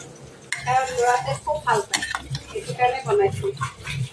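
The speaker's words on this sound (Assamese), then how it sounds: "2 নম্বৰ বিলাহী চচত এইবাৰ মই আহি পাইছো লৰাবলৈ।" A spoon stirs homemade tomato sauce in a pot, its rhythmic scraping and clinking strokes repeating close by under continuous talking.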